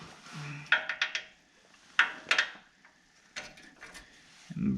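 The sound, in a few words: breaker bar with 24mm socket breaking castle nut free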